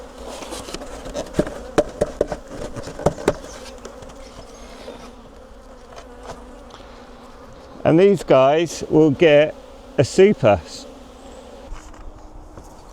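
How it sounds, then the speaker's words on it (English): Honey bees buzzing around an open hive as frames are worked to check an aging queen, a steady swarm hum beneath someone talking, with louder close passes of bees near the microphone. "I'll just get all these bees off the edge, get them to fly at me"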